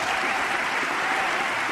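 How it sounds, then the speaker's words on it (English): Loud, sustained applause from a crowd of travelers in an airport terminal, a dense steady wash of clapping filling the whole moment with no gaps. "the people in the terminal applauded loudly"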